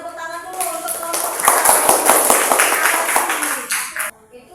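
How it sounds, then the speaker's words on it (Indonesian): Classroom applause for a student group, a burst of quick hand clapping from students that builds, holds for a few seconds, then drops off abruptly, with voices faintly mixed in. "kita berikan tepuk tangan dulu untuk kelompok"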